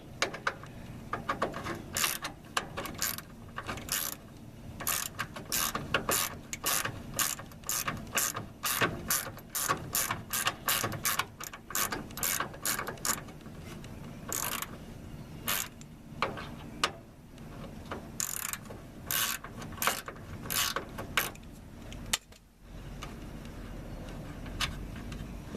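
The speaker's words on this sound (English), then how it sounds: "I know you can't see me turning this bolt" A ratchet turning a 5/16 bolt by the fuel filter of a 1985–1986 Ford F-150 with a 5.0 L EFI V8, giving long close runs of steady clicking strokes with brief pauses, no talking.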